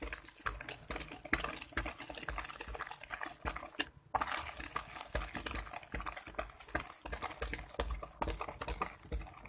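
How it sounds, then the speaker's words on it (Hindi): Eggs get mixed into fruit cake batter in a bowl, a rapid irregular clicking and wet slapping of a whisk or spoon that continues throughout, with a short pause just before the midpoint. "और अब मैं डाल दूंगी इसमें अंडे, और इसे मैं अच्छे तरीके से मिक्स कर लूंगी ताकि इसमें गुठलियां ना बन जाएं"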